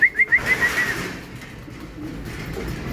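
A racing pigeon at its home loft gives a short run of rhythmic coos right up close, then the scene settles into quiet outdoor background hiss.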